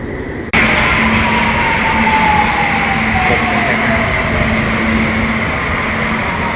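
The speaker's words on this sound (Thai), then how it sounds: "รถไฟมาแล้ว" Electric commuter train pulling into a station platform in Hungary, a loud steady rumble of wheels and rushing air with a long descending whine and faint squeal as it slows close by, no talk.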